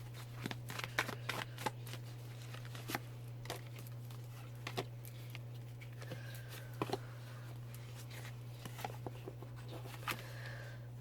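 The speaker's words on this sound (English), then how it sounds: "So I'll pull out 3 cards for that one." Tarot cards shuffled and drawn from a deck, giving repeated sharp snaps and flicks over a steady low hum, close and moderately quiet, with no talking.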